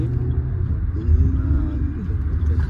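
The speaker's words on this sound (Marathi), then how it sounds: "प्रतीक चालवतोय गाडी." A car drives along the road on a road trip, heard as a steady low engine and road rumble from inside the vehicle.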